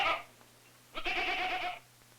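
Goats on the Galapagos islands, a single clear bleat lasting under a second after a brief earlier cry, fairly close against a quiet background.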